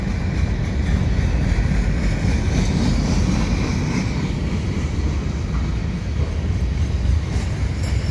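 A CP freight train passes eastbound at Marshall Avenue in Dorval on a fall afternoon, a steady loud low rumble of rolling cars that holds evenly throughout with no horn.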